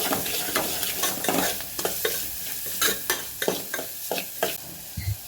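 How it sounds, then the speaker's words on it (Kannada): Repeated scraping strokes of a spoon stirring green chili paste into hot tempering oil in a pan, with a steady sizzle of frying oil underneath and no voices. "ಹಸಿಮೆಣ್ಸಿನ್ಕಾಯಿ ಪೇಸ್ಟ್ನ ಒಗ್ಗರಣೆಯಲ್ಲಿ ಚೆನ್ನಾಗಿ ಮಿಕ್ಸ್ ಮಾಡ್ಕೋಬೇಕು"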